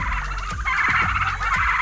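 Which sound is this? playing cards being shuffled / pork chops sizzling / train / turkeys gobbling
turkeys gobbling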